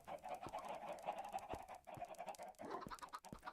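Chickens cluck faintly in the Minecraft video game, giving soft, repeated short calls spread across a quiet stretch.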